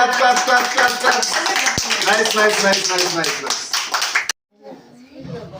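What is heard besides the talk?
clapping at a birthday celebration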